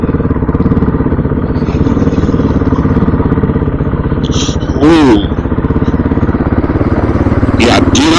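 A dirt bike engine runs steadily throughout at close range, with throttle blips and revs rising in two short bursts, while a person talks over it.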